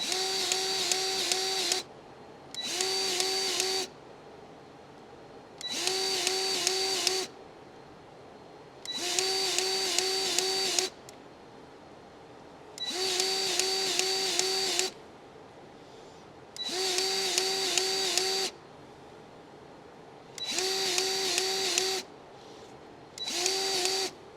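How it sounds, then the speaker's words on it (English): A powered grease gun forcing grease into the rollers of a 1968 Dodge R/T: eight regular bursts of whirring motor whine, each about two seconds long, separated by short quiet gaps, close and fairly loud. "Now we just go in and grease every roller and good to go."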